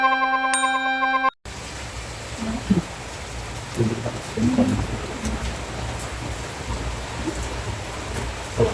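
Steady rain pouring down outdoors in rural Thailand, a dense continuous hiss with scattered louder drops and patters, following a brief burst of chiming tones at the start; no one speaks.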